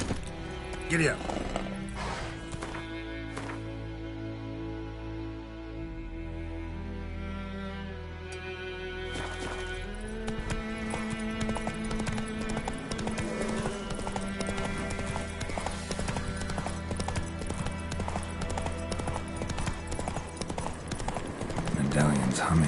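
Horse hooves clip-clop at a steady gallop in The Witcher 3, with occasional whinnies, a continuous rhythmic drumming under a musical score, and spoken game dialogue over it.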